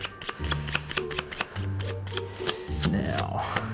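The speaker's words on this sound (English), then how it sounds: "I'm going to shuffle one more time." A deck of playing cards is shuffled during a close-up magic trick, giving a run of quick riffling flutters in short bursts, close and clear, with a low hum underneath.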